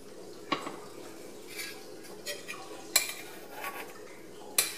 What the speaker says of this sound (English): So you will see me fold the rice into the meat